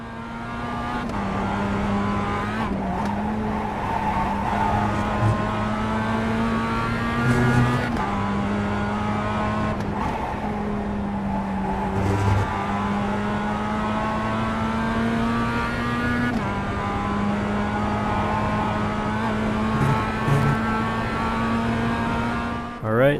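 Race car engine in the iRacing simulator, a loud continuous droning whine that climbs in pitch and drops sharply at each gear shift, with a steady background roar and no talk over it.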